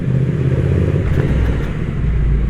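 A 2023 Triumph Speed Twin 1200 motorcycle engine rumbling deep and steady up close, with a slight swell in revs partway through and no talking.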